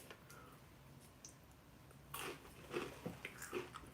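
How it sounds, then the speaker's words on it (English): Homemade granola crunches between the teeth up close: a quiet stretch, then a run of irregular, crisp crunching bites in the second half. "Listen to that crunch."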